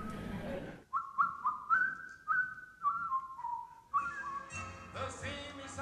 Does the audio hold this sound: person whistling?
yes